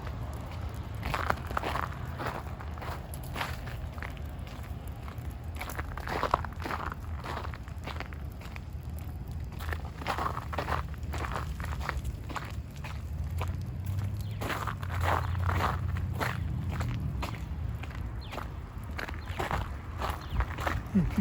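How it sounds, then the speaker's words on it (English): Footsteps crunch over patchy unmelted ice outdoors on a January day, a slow steady series of gritty crackling steps heard fairly close and alone, with a faint low rumble underneath. "You can hear crunching sounds."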